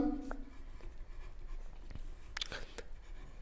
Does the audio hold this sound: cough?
no